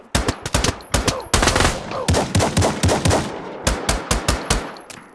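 Automatic gunfire in the VR shooter Pavlov, played on an Oculus Quest: a near-continuous string of loud, close, rapid shots with a brief lull partway through, and no talking over it.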